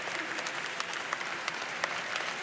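Team members applaud at a Tokyo 2020 Paralympic boccia venue as the victorious Japanese side lines up for photos, lively clapping with a few sharper claps standing out and faint crowd noise behind.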